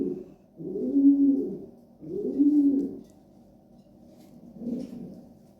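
Imported Belgian racing pigeons coo up close, three soft, throaty rolling calls separated by short pauses, with no other sound around them.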